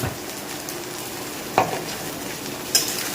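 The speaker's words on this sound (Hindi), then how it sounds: "इसी प्याज के साथ हम भूनेंगे सब्जी।" Vegetables fry with onion in a pan, a steady close sizzle broken by two sharp clinks of a utensil against the pan.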